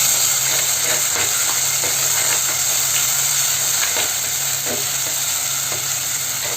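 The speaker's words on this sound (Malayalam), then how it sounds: "അരച്ചു വെച്ചിരിക്കുന്ന മസാല ഇതിലേക്ക് ചേർത്ത് കൊടുക്കുകയാണ് ഇത് നന്നായിട്ടൊന്ന് ചൂടാക്കിയെടുക്കാം" Ground masala paste for a Kerala-style fish curry sizzles loudly in a hot pan, a steady close frying hiss broken by repeated stirring scrapes.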